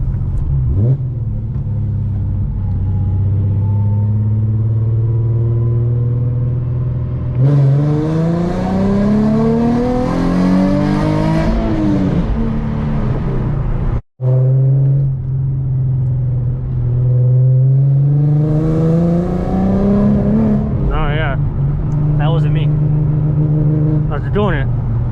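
A Nissan 370Z Nismo engine revs up through second gear, shifts, and climbs again in third, a loud close interior drone with rising pitch, and voices talk over it.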